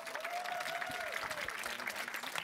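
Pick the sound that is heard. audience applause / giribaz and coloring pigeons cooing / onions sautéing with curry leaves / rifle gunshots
audience applause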